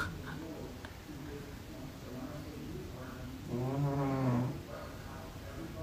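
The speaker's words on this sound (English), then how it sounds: "that is actually a big orange cat, not a giant bulldog" A big orange cat vocalizing indoors, giving a drawn-out, throaty, snore-like moan midway through, with a low background hum and a few softer grumbles around it.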